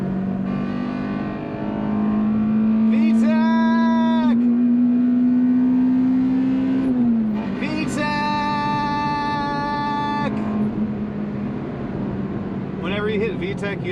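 Acura RSX Type S with its K20 engine revs loudly, pitch climbing steadily before the VTEC crossover, with a second burst of high revving later; a voice talks over the engine.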